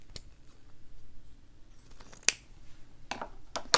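Scissors snip through fabric bunny ears for a hand-stitched quilt block, giving a few sharp, close clicks spread over a few seconds with quiet in between.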